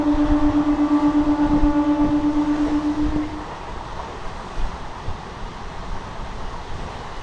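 The 07884 MEMU passenger train runs from Rajahmundry to Bhimavaram, heard from onboard as a steady, loud rumble with a sustained hum that fades partway through. Softer rolling noise and occasional knocks continue underneath.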